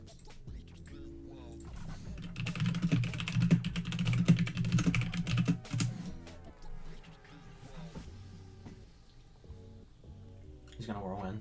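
Computer keyboard keys or a mouse clatter in quick bursts, fairly close, during an online Pokemon battle, partly under a person talking.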